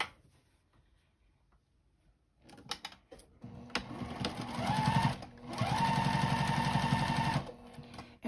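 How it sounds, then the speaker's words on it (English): A sewing machine stitches a narrow side seam on a pillowcase in two sustained bursts of rapid whirring, close and clear, after a few handling clicks and a near-silent start. "when we're sewing along the side of our pillowcase"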